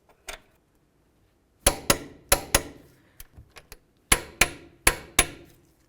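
Sharp metallic hammer blows on the caliper bracket bolts of a 2000-2005 Buick LeSabre during front brake and wheel bearing work: a single strike, then several clustered groups of ringing hits with short pauses, loud and close.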